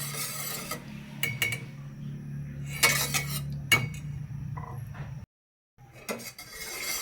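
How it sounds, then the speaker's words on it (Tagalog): A utensil stirs a taho mixture in a cooking pot, making close scraping strokes and metallic clinks in an uneven rhythm, with a brief silent pause near the end before the stirring resumes. "Continuous lang tayo sa paghalo para hindi siya magbuo-buo"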